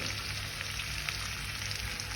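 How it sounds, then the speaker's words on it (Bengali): Prawns frying in oil in a pan for a Bengali prawn bhuna, a soft even sizzle and crackle held at a low level throughout, with no talking. "একটু ভাজা ভাজা হোক, তারপরে আমি চিংড়ি মাছগুলো উঠিয়ে নেব"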